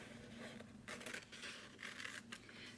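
Scissors snip a leaf shape out of vintage book paper, with two quiet bursts of crisp cutting separated by a brief pause over a faint room hum.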